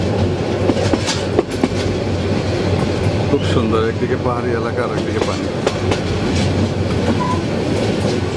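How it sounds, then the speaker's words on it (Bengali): A passenger train running from Dhaka to Brahmanbaria rolls on with steady clickety-clack wheel rhythm and constant rumble, heard from inside the carriage while someone talks over it. "এই ট্রেনে করে গিয়েছিলাম সকালবেলা, আবার রাতের বেলা ফিরে এসছি।"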